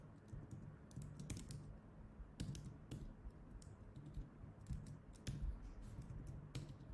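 Close keyboard clatter comes in short irregular runs of keystrokes as a Ruby on Rails search query is typed, quiet and alone with no speech.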